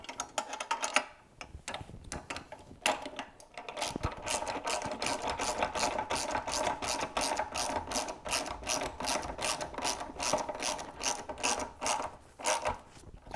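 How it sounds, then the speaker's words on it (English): Ratchet on a long extension tightening bolts while a 3-inch wood chipper is assembled: rapid, crisp bursts of clicking pawl strokes close by, pausing briefly between runs. "I like to use this long extension because it gives you a grip onto this bar here, and you can really ratchet pretty quickly"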